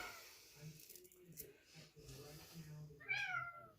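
Cat meows ring out near the end, high and drawn out, following a stretch of low speech-like murmuring and faint background sounds during resin crafting.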